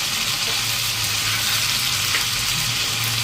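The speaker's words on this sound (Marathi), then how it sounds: "गॅस फास्ट करून चांगलं लालसर होऊ द्या." Mutton curry frying on a gas flame turned up high, cooking until reddish, gives a steady, close sizzle throughout with a low hum beneath and no talking.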